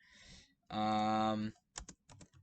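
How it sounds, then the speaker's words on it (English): Keys on a computer keyboard are tapped in a few quick, close bursts during a podcast recording, following a brief sustained voiced tone. "I'm frantically typing that down now"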